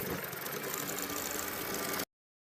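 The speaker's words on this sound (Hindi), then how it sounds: "तो अब हमने यहाँ से सिलाई लगाना स्टार्ट करना है" An electric sewing machine stitches elastic onto a salwar, a fast continuous whirring mechanical rattle close by for about two seconds, then cutting off abruptly.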